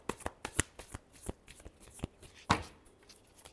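Tarot cards are shuffled by hand in quick, crisp riffling bursts, close and fairly quiet, with an irregular rhythm of soft flicks and a slightly stronger snap partway through.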